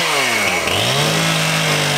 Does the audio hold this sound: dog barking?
no